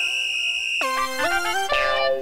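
A phone ringtone plays a bright electronic melody, steady and fairly loud, with the tune shifting pitch partway through.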